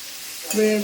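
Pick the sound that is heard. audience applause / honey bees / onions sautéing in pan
onions sautéing in pan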